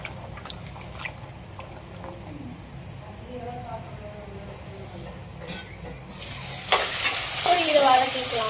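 Soya chunks sauté in a pan, with soft stirring scrapes and a light sizzle that swells into a louder, steady frying hiss near the end, under a voice speaking Tamil.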